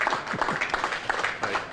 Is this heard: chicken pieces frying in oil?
no